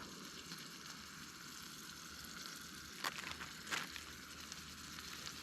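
Food cooks on a camping stove at a solo forest campsite, giving a faint, steady sizzle with two brief louder crackles near the end and no talking.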